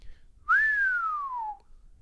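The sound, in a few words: whistle imitating a sound effect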